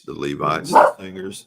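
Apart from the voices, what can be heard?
dog barking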